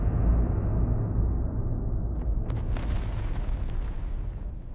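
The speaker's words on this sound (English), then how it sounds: "A violent high-frequency bang tears through the ocean, traveling endlessly through the sound channel" A violent deep bang from the implosion of the Titan submersible in the ocean, a sustained low rumbling roar with rolling booming bursts partway through, loud and alone with no voices.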